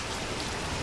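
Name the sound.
rain falling in Konkan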